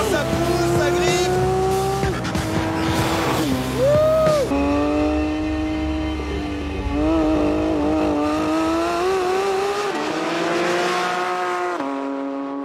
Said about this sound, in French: sur cette GT3, il est temps de partir à l'attaque avec le mode track